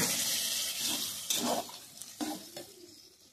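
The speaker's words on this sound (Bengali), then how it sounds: "আমি এবার পরিমাণ মতো জল দিয়ে দেব।" Water pours into a pan of soybean, potato and pointed gourd curry with a rushing hiss that fades, followed by a few soft utensil clinks nearby.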